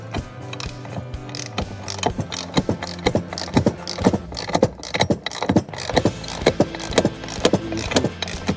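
A bolt on a lower steering stem bearing removal and installation tool is tightened to work the bearing race loose, giving a steady run of sharp, close ratcheting clicks with faint metallic grinding between them and no talking.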